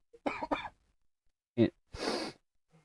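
A couple of quick coughs close to the mic, followed by a short throat-clearing burst and a breathy exhale, with silence between.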